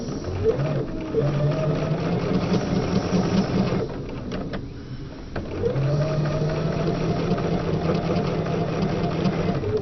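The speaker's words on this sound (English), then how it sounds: "I'm going to go forward a stitch, and I'm going to push my reverse and just go backwards 1 stitch" A sewing machine stitches forward and then in reverse while piecing a quilt block, with two runs of steady mechanical whirring separated by a brief quiet pause.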